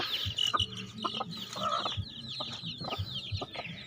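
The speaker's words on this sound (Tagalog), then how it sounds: "Ito yung pinakalola nila yun ang galing yung Rhode Island Red." Rhode Island Red chickens cluck repeatedly in a coop, short close clucks coming in uneven bursts over steady background chirping of other birds, with no talk.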